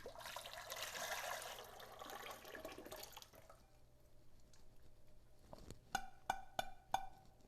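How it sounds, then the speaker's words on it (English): Liquid pours into a mixing bowl while bread is being made, a loud running splash that fades into quieter trickles, then ends in a few sharp drips or knocks. "And then I pour this into my mixing bowl."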